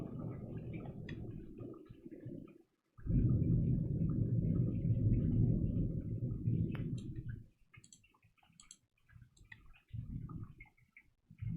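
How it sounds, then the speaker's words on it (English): Low, sustained rumbling of a thunderstorm outside an open window, a long heavy roll lasting several seconds after a brief lull, with a shorter distant rumble later and faint clicks between. "there's a thunderstorm outside."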